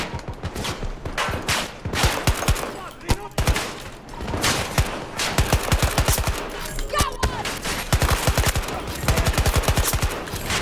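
Rapid, repeated shotgun blasts in the video game Battlefield 2042 zombie mode, loud and close, firing in quick bursts with dense overlapping gunfire and explosions throughout, and a voice speaking briefly amid the shooting.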